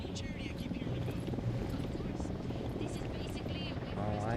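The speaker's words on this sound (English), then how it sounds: "Who need that chopper?" A helicopter in the video game Ghost Recon Wildlands gives a steady, loud rotor drone throughout, with voices talking over it.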